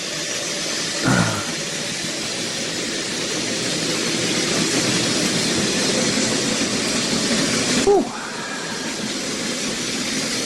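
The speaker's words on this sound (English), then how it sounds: "So maybe we'll try and start the other train with the new Black 5 again." An OO gauge Hornby Black 5 model locomotive runs on the track, a steady whirring rumble that holds for about ten seconds, with a brief clunk near the start and a sharper knock near the end.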